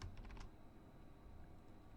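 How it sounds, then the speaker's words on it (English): A few quick keystrokes on a computer keyboard during spreadsheet data entry, clustered at the start and then giving way to a low steady room hum. "typing"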